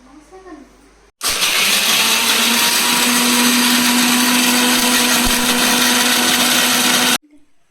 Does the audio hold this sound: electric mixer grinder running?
yes